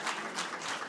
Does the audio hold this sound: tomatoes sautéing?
no